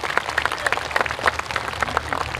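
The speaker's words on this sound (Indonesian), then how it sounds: "Tepuk tangan untuk Bapak Erlangga Hartarto." An audience applauds at a Maulid Nabi religious gathering held by a political party, with brisk, crowded hand clapping sustained steadily throughout at moderate loudness.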